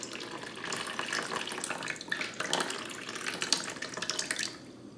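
Room-temperature filtered water runs steadily from a tap into a bowl, a continuous splashing gush with small fluctuations, close up and with no voices.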